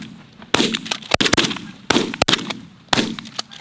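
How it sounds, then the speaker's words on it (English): 20 gauge shotgun shots fired at geese during an early season goose hunt ring out as several sharp, loud blasts in quick irregular succession, some doubled, echoing outdoors. "Shoot those if you can."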